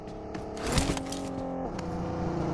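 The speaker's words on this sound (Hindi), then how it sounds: "गाड़ी आ रहा है" Vehicle approaching in the PUBG video game: a steady, moderately loud engine drone with shifting pitch that rises and changes as the car nears, with no speech over it.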